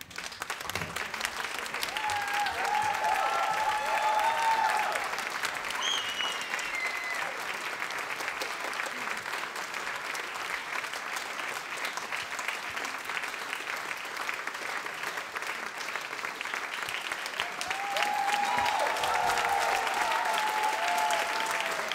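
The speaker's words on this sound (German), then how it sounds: "Applaus" Audience at a musical performance applauds continuously and steadily for a long stretch, dense even clapping from a large crowd with a few faint whistles, heard at a moderate distance.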